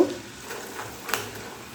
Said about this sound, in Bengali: আর বাদাম ভাজার সঙ্গেই আমি একটা শুকনো লঙ্কাও ভেজে নেব